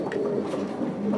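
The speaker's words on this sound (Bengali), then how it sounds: "এগুলা কি কবুতর লক্ষা কবুতর হ্যাঁ ইন্ডিয়ান লক্ষা" Indian Lakka pigeons on a pigeon farm give a low, soft, steady cooing, close by and continuous for a brief moment.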